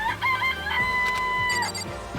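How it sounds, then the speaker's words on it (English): Chicken in the video game Danganronpa: a sustained fowl call with rising tonal notes, close and fairly loud over quiet game background, no talk. "It's a chicken."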